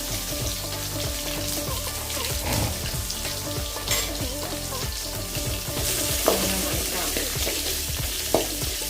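Curry leaves hit hot oil in a pan and set off a loud, dense, continuous sizzle with crackling pops, alone with no talk.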